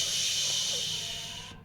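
Water poured onto hot spices frying in a pan for a fish curry with papaya sets off a loud, steady hiss of steam that fades slightly before cutting off.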